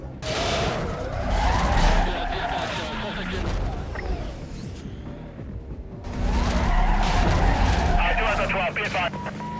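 In the Need for Speed Carbon video game, a car skids and spins around with loud tire squeals and engine noise, a brief lull in the middle, then another burst of screeching as radio chatter talks over it.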